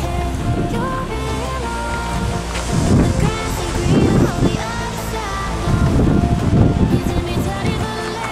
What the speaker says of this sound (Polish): Wieje strasznie wiatr